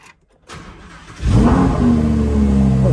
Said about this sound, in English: just gonna turn the car on. Just do that and then press start